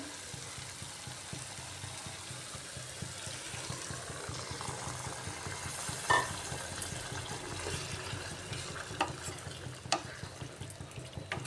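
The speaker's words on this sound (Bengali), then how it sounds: "এখন এর মধ্যে দিয়ে দিচ্ছি সামান্য জল" Pointed gourd and paneer sizzle steadily in a hot pan as water is added, with occasional clinks of a utensil; no talking.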